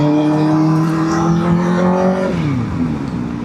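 A 2025 Kawasaki ZX-4RR motorcycle fitted with a Scorpion exhaust revs loudly under a flyover, holding a high-pitched wail that drops sharply as the throttle closes, with echoing exhaust tone and no voices.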